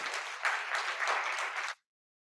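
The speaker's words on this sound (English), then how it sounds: "not just these, a round of applause." An audience at a school's state-of-the-school address gives students a round of applause: dense, even clapping for under two seconds, then cutting off abruptly into silence.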